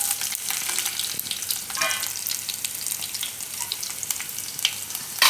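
Mustard seeds and garlic sizzle in hot oil for a Gujarati red chilli and onion chutney, a steady frying hiss with small crackles and a brief stir scrape, no voices.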